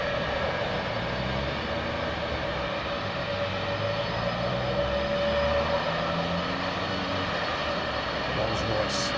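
An aircraft powered by Rolls-Royce Trent XWB jet engines drones steadily at Heathrow Airport, a continuous distant engine roar with a faint tonal whine throughout.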